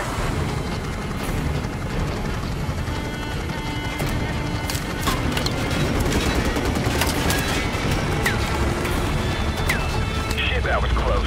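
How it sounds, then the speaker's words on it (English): Dense Call of Duty Modern Warfare Remastered battlefield combat with sustained gunfire and sharp impact cracks, RPG blasts mixed into a continuous loud roar, radio chatter running underneath throughout. "We've got RPGs down there."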